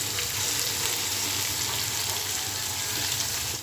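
Spring onion whites with garlic and ginger sauté in hot oil, producing a steady, fairly loud sizzle that runs evenly throughout without pauses or voices.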